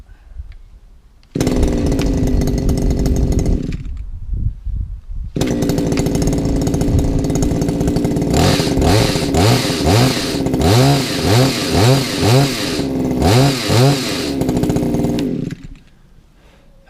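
A petrol hedge trimmer starts, runs loudly for a couple of seconds, stops, then restarts and revs up and down repeatedly in a raspy two-stroke buzz close by before shutting off.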